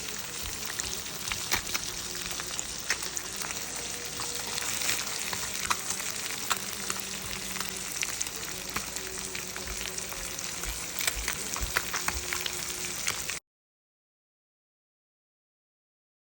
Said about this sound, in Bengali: এখন করতেছি কিমা দিয়ে বিরিয়ানি, অলরেডি ভাজা শেষ